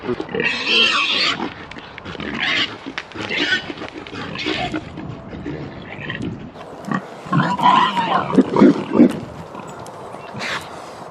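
Idaho Pasture Pig boar and breeding sows heard in an outdoor pen, with repeated grunts, squeals and rough snorts coming in bursts at close range, with no talking.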